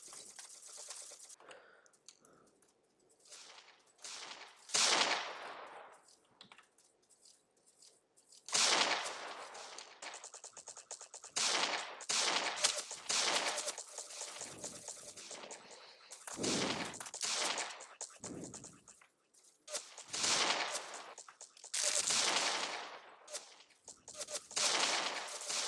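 Bursts of gunfire from a scoped gun in the blocky shooter Ace of Spades rattle in quick clustered volleys, loud and close, separated by short pauses across the stretch.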